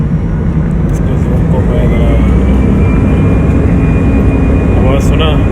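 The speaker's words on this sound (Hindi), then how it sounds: "अभी इंजन का देखो पावर बढ़ा दिया।" AirAsia airliner jet engines spooling up for takeoff from Jakarta airport, a loud, steady broadband roar heard from inside the cabin with a rising whine, while someone talks over it.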